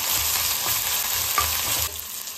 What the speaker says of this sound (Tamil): இஞ்சி பூண்டு பேஸ்ட்டு ஆட் பண்ணிக்கலாம். பச்சை வாசனை போட மட்டும் நல்லா வதக்கிக்கலாம்.